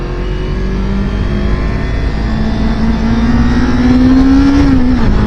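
A 2023 Kawasaki Ninja 400 motorcycle engine pulls hard under acceleration, loud and close, its pitch climbing steadily over a constant roar of wind and road noise.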